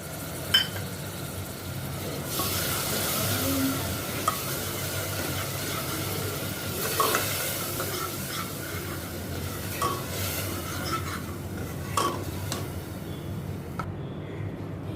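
Grated tomato sizzles in hot oil in a pan while being stirred, for a whole moong curry; a steady close frying hiss runs throughout with scraping stirs and occasional clinks of a spoon against the pan.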